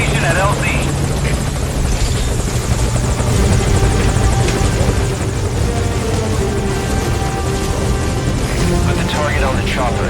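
Helicopter rotor and engine drone loud and steady throughout a Metal Gear Solid V: Ground Zeroes mission, with radio-style voices talking over the steady whir.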